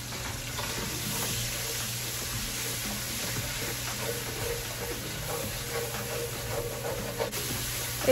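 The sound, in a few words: ginger garlic chilli paste sizzling in hot oil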